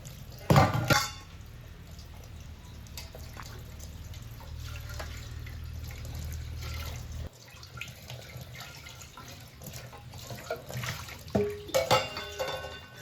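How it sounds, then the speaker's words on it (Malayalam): Water runs and drips as a pot is washed at a kitchen sink on a rainy morning, with clinks of the vessel, a steady flow that stops partway, then scattered splashes and knocks. "ചായക്കൊക്കെ വെള്ളം വെക്കാനായിട്ട് പാത്രം ഒന്ന് ആദ്യം കഴുകിയെടുക്കുന്നുണ്ട്."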